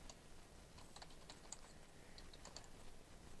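Quiet, rapid keystrokes on a computer keyboard, soft and fairly distant, in short irregular bursts over low background hiss, with no talking.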